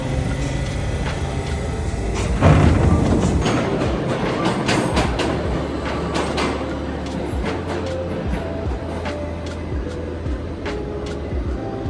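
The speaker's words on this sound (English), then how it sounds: "First time ever on the New York subway" A New York subway train carrying riders to Yankee Stadium on opening day: a steady loud rumble of the moving car with rattling clatter and a surge in noise early on, continuous throughout with no clear talk.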